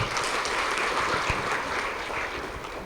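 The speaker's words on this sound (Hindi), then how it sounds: "इसके लिए एक बार ताली बजाइए।" An audience at a welcome gathering in Haridwar applauds, a dense, even wash of clapping from many hands that holds steady and fades slightly toward the end, with no voices over it.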